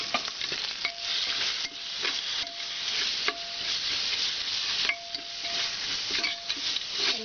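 Ground coriander, pepper and red chilli powder stir-mixed in a hot pan, a steady close sizzle broken by repeated scraping strokes of a spoon against metal, with no talk.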